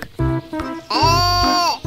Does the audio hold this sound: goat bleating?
yes